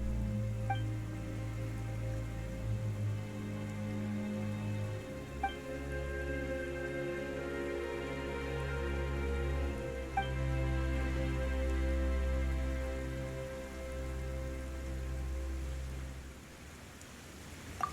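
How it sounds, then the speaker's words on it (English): Steady rain falls during a video game cutscene, a continuous hiss of drops with occasional sharper drips, layered over low, sustained background music. "Why is it raining all of a sudden?"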